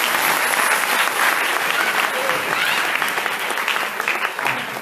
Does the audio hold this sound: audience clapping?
yes